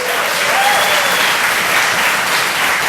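Audience at a comedy club applauds a featured comedian, steady dense clapping filling the room at full volume with a faint whistle rising briefly early on.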